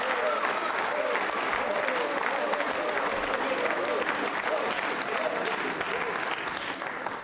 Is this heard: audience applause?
yes